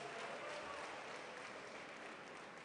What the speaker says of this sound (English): Please encourage her with an applause as she retires to her seat.